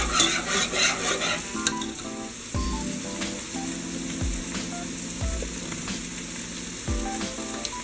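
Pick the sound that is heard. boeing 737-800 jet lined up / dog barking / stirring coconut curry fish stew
stirring coconut curry fish stew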